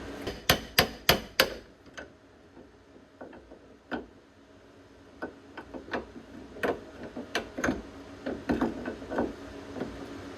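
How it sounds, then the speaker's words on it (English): A hammer strikes metal in sharp, ringing blows: a quick burst of four hits, then scattered single and double taps spread across the clip, close and clear with no talk. "let's get a hammer."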